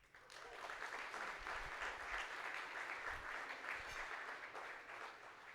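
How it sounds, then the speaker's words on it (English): An audience at a company conference breaks into steady, continuous applause that swells quickly and holds, fairly soft overall, with a few low thumps under the clapping. "Again, a round of applause."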